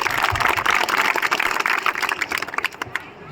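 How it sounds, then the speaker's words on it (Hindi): Crowd applause at a village Gangaur festival gathering, a dense steady wash of many hands clapping that continues throughout and thins slightly toward the end. "मैं चाहता हूँ कि एक बार आप अपने गांव के लिए और यहाँ के लोगों के लिए भी तालियां बजाएं।"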